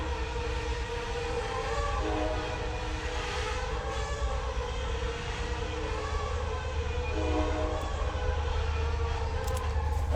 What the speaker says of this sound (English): Train. We hear you screaming.